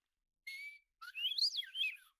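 A person whistles an imitation of a western meadowlark's song: a short steady note, a pause, then a longer warbling, sliding phrase, clear and close.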